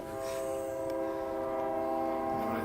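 A steady, continuous rumble of a train with sustained horn-like tones running throughout, loud and close, with no voices.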